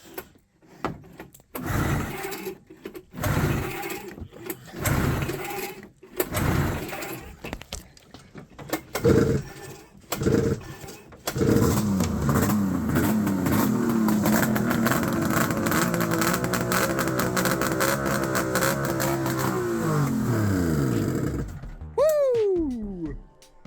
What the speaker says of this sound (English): now Shawnee's kids know what a triple sounds like